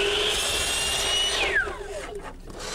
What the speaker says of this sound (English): I have to cut it at a very long angle, so it's easy to do that with a small trim saw